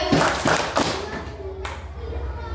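Fourth-grade schoolchildren clap hands together in a classroom, a few sharp group claps in quick rhythm followed by a lone later clap, with children's voices mixed in.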